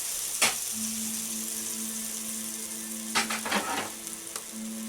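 A grilled cheese and roast beef sandwich sizzles steadily while frying, with a sharp clack early on and a burst of clattering near the end.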